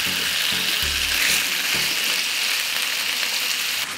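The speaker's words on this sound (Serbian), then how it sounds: "okrećem na drugu stranu i nastavljam da pržim još 2 minuta" Meat sizzles in a hot frying pan after being turned over, giving a dense, continuous hiss that stays steady throughout, with a few soft low knocks near the start.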